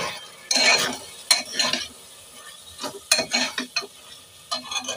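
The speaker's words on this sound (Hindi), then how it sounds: "चलिए इसे मिक्स कर देते हैं।" A spoon stirs dry vegetable curry with kasuri methi in a pan, giving close scraping and clinking strokes in uneven bursts with faint sizzling between them, and no speech.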